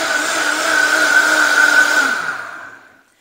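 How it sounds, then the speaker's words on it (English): Vitamix blender blending vegan queso blanco, a loud steady high-pitched motor whine held close for about two seconds before spinning down and fading to silence. "So I'm going to put this on my Vitamix blender"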